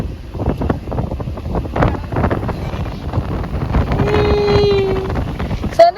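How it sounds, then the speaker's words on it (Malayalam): Cold wind rushes through an open car window on a road trip in Idukki, making a loud, steady buffeting roar with occasional gusts. "നല്ല രസമുണ്ട് ഇങ്ങനെ കാറ്റ് കൊണ്ട് പോവാൻ. ഇത് തണുത്ത കാറ്റ്."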